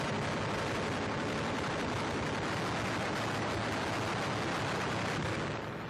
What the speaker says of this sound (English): Riddled by the stream of American gunfire, the Zero is doomed, and you see it catch fire and blow up.